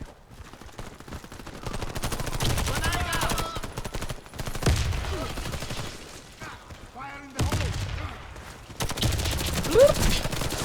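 Bursts of rapid gunfire in the video game Warface crackle in quick succession, with short gaps and a few quieter stretches between volleys.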